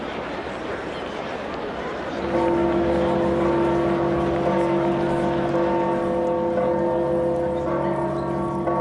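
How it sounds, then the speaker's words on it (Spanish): Church bells ring out over Saint Peter's Square in the Vatican as white smoke signals a new pope. After a crowd murmur, sustained overlapping peals swell and continue loudly. "al humo blanco se le unió el replicar de las campanas en la Plaza de San Pedro"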